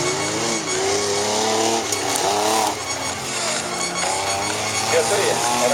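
Racing cars, including an Opel Astra and an Audi 80, rev and roar around a race circuit. The engines whine continuously and rise and fall under a commentator's steady talk.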